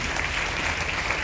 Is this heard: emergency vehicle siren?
no